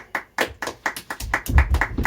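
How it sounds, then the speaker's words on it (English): One pair of hands claps in a steady, close rhythm of about a dozen crisp strikes, joined near the end by low thumping sounds. "this is what clapping hands sounds like"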